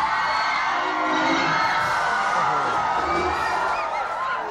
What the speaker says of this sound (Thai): โอ้โหเสียงกรี๊ดสนั่นทั้งห้องส่งครับ